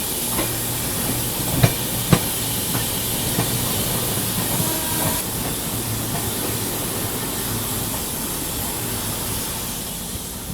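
The Dehradun Subedarganj Express rushes past, a loud continuous roar and hiss of rolling wagons with a couple of sharp clanks early on.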